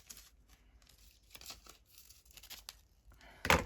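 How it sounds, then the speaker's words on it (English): Scissors trimming paper for a junk journal cover with a medieval theme, heard as faint, intermittent snips and papery rustles, ending in a louder crisp crinkle at the close. "so we'll trim off some of that."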